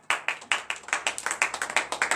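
A church congregation at morning prayer claps in acclamation, a quick run of sharp, closely spaced hand claps, fairly near and without talk.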